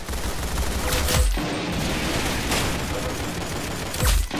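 Gunfire in the Roblox game Arsenal: dense, loud bursts of rapid shots with a few sharper booming reports standing out, continuous throughout with no talk.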